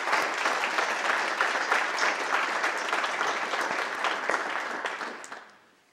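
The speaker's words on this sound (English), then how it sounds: "Could you just join me in a round of applause?" A conference plenary audience claps in a sustained, dense round of applause that carries on evenly for several seconds, then tapers off and fades near the end.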